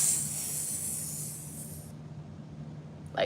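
A steady, loud hiss of bear mace spray lasting about two seconds, then fading to a quieter background before a brief sharp noise at the end.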